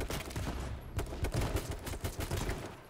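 Gunfire in the H1Z1 battle royale game: a steady run of rapid shots and bursts, moderately loud and close, with no talking.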